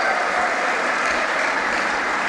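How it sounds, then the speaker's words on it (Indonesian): Sustained, dense audience applause fills a graduation address hall for a university rector, steady and loud throughout with no pauses. "Tepuk tangan sekali lagi untuk Pak Rektor."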